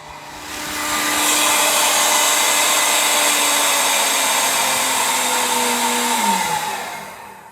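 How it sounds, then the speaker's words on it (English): A steady, loud rushing whine of a Gorilla G2 or G3 vacuum running continuously, broadband airy roar with a faint tonal hum, fading in at the start and tapering at the end. "all that air you're hearing is the vacuum"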